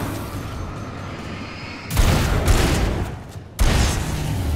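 Gunfire in the Alan Wake video game, two loud bursts of rapid shots, each with a heavy booming tail, over a low rumbling background.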